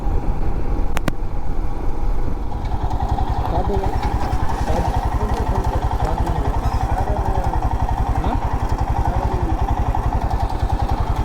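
A motorcycle rides slowly along a road on a long ride from Konark to Ichchapuram, its engine a steady, close, low throbbing drone that continues unbroken throughout.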